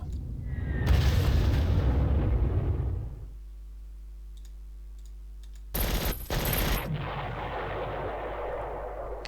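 Bombing run in Panzer Corps, a loud rumbling barrage of explosions and gunfire for about three seconds, then a low mechanical hum, and a second brief heavy blast burst that fades into a rumbling tail.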